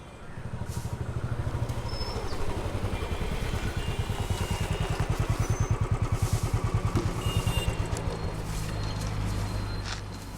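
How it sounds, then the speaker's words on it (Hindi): A motorcycle engine running steadily and close, its throb pulsing rhythmically throughout with faint clatter on top. "उस बाइक का इंजन सही कर।"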